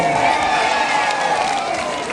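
Crowd applause and cheering at a Catholic men's fellowship installation and Easter meal in Letvuan parish, a dense continuous roar of claps and voices held at a steady, loud level throughout.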